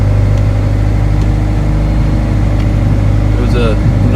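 An Acura Integra engine runs with a loud, steady, close low hum, and a brief chirp rises near the end.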